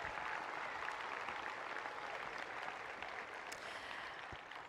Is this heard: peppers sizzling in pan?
no